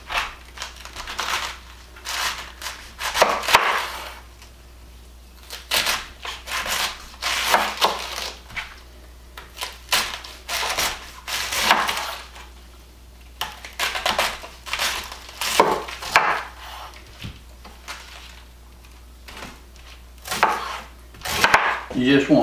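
Repeated knife chops through cabbage on a cutting board in uneven bursts, close and crisp, with occasional pauses and light handling noises between runs of chopping.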